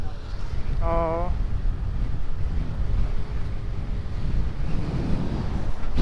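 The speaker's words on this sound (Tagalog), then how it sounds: "Grabe, ang lakas ng hangin." Strong wind roars loudly and continuously against the microphone during a motorcycle ride in Bicol, a dense buffeting rush that covers the whole stretch, with a brief voice heard early on.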